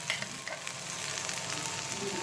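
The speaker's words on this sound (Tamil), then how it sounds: "நெய் விட்டு கொஞ்சம் முந்திரி தாழ்த்து வறுத்துட்டு போட்டோம்" Cashews fry in ghee in a pan during cooking of bisi bele bath, a soft, steady sizzle close by with faint stirring and no voices.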